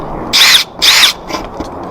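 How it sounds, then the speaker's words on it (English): A power drill bores a pilot hole through the metal roof of a Sprinter van in two loud, close bursts of about a third of a second each, followed by faint scraping. "I'm going to drill a pilot hole"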